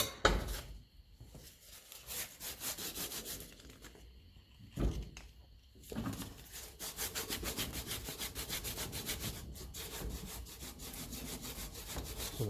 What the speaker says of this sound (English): polishing this up now as much as I can with sandpaper until I get that going in and out of there, the casting nice and smooth.